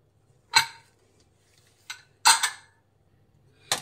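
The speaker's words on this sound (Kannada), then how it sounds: "ಫ್ರೆಂಡ್ಸ್ ನೋಡಿ, ಮಿಕ್ಸ್ ಮಾಡೋಣ." Masala kushka rice being mixed in a pressure cooker after cooking: four sharp metallic clinks of a spoon against the pot, two close together in the middle, each loud and brief against near silence.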